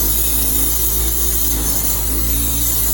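Power tool polishing rust off the chrome of a vintage motorcycle during restoration, a steady loud whirring hum with a faint rubbing texture, continuous and close, without talk.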